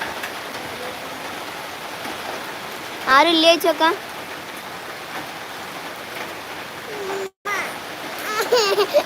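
Dense, steady hiss of heavy rain pouring down throughout, with a couple of brief voices speaking over it.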